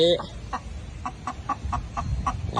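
Chickens cluck in short, evenly spaced notes while pecking at scattered rice grains, a steady series of clucks over low background noise.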